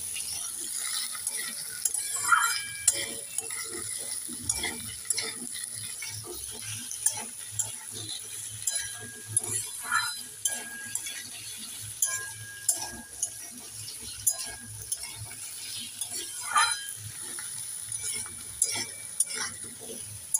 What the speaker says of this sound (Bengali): একটু নেড়ে চেড়ে আলুগুলোকেও ভেজে নেব।